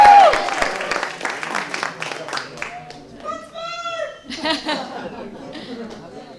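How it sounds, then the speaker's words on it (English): Applause for dancers at a 59th birthday celebration, loudest at the start and fading quickly into scattered claps, chuckles, laughter and chatter from the guests. "Another round of applause for our dancers, please."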